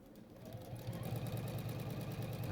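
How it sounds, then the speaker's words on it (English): A sewing machine top stitching a children's pinafore dress hums in a steady, close mechanical whir that keeps a rapid, even needle rhythm throughout. "I'm just using the inside edge of my foot as a guide as to where I'm going to sew."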